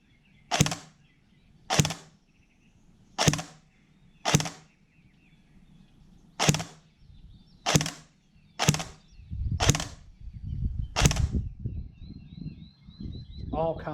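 An Ares G36 airsoft rifle fires at a target outdoors, eight sharp, separate cracks spaced about a second apart, followed by wind noise and rustling.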